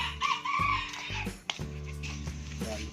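Pet chickens with a rooster crowing close by, a loud drawn-out cock-a-doodle-doo over steady clucking and barnyard murmur, no talk.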